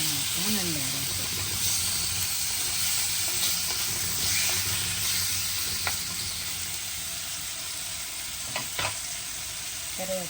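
Tomatoes sautéing in a pan for a Sri Lankan style fish curry, a steady close sizzle and hiss broken by repeated scraping stirs of the spoon, with a voice talking over it.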